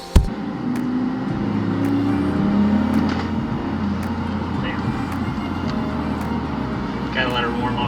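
A Toyota Aristo's engine idles steadily while warming up, a low continuous hum with a faint whine, close by and even for the whole stretch, with a brief thump at the start and light background noise.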